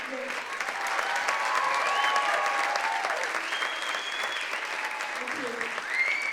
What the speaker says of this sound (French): On peut applaudir aussi Thierry et Léo au son et à la lumière, s'il vous plaît.